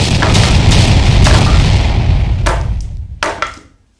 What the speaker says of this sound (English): Today the Grand Battery is here and they're firing on Hugo Mall.